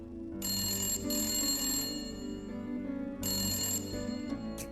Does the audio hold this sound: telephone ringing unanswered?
yes